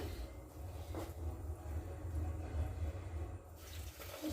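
Water is poured into a cooking pot, running steadily for several seconds, a continuous splashing stream with a low rumbling undertone, close by and fairly loud.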